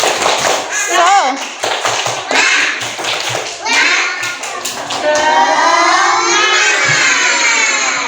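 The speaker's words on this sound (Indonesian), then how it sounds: "Tepuk semangat." Schoolchildren in a classroom performing the rhythmic 'tepuk semangat' clapping chant, sharp patterned claps alternating with children's chanting voices, lively and close.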